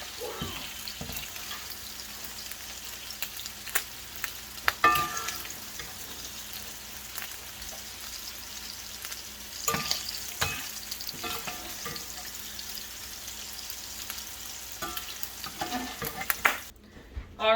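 Sausage and potatoes fry in a pan with a soft, continuous sizzle and occasional scraping and stirring clatters, fairly faint and without talk.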